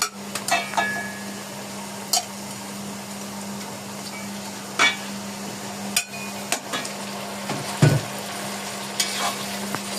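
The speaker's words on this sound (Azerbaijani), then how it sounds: "İndi ətimizi tökürük soğan içine." Meat tipped into a pan of frying onions and stirred, giving a steady low sizzle under scattered clinks and scrapes of a utensil against the pan.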